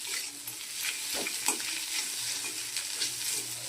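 Egg frying in a pan and being stirred about, the start of a quick spicy semolina dish; a soft continuous sizzle runs under repeated scraping stirs and light taps, fairly quiet and without speech.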